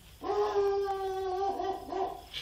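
A police dog lets out one long, drawn-out howl with a steady whining pitch, close and clear, lasting about two seconds before trailing off.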